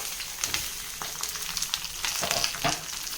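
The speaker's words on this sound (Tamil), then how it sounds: "இதை ஒரு 2 நிமிஷம் 3 நிமிஷம் வதக்கிக்கலாம்" Shallots, garlic and chopped capsicum sautéing in a pan, with black urad dal already roasted, give a steady close sizzle broken by scraping stirs, without any talking.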